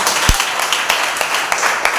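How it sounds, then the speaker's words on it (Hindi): Church congregation clapping during a Sunday service welcome, a brief burst of loud, uneven hand claps with distinct sharp individual claps standing out over the crowd. "आज स्वागत करते जोरदार तालियों के साथ।"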